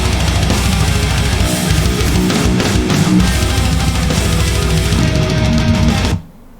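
Electric guitar played through the STL Tone Hub amp plugin for guitar tracking, a dense, loud and sustained distorted tone filling the clip before cutting off abruptly near the end.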